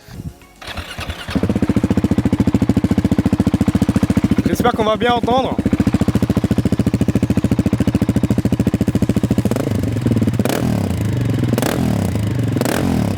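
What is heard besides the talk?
KTM 690 SMC R motorcycle engine starting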